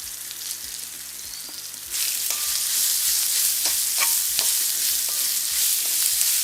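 Onions drop into a pan with fennel powder and start frying, a faint sizzle that jumps to a loud, steady hiss, broken by repeated scraping strokes of a stirring spoon.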